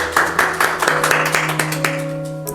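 Church congregation at a Sunday service claps to welcome newcomers, a run of quick rhythmic claps over sustained musical tones, fading slightly toward the end.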